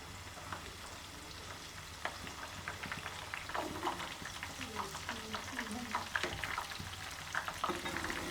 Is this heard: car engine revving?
no